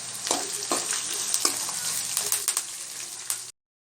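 Lightly crushed garlic and onion sautéing in a pan for an aloo beans masala fry: a continuous sizzle broken by several sharp stirring scrapes, close and clear, no talking.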